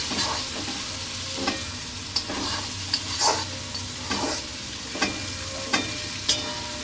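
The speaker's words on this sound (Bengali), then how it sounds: "এবার ভালো করে নাড়তে হবে, কষাতে হবে মাটনটাকে।" Mutton is stirred and fried in a pan with chopped tomato, giving a continuous close sizzle broken by regular sharp scrapes of the spatula, with no talking.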